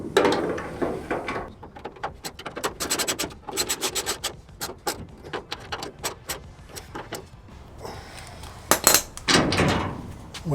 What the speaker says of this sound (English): Now tighten up the bolts.